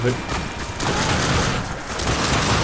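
Rapid gunfire in The Darkness II, a dense, continuous volley of shots with booming low end, loud and close, while someone talks excitedly over it.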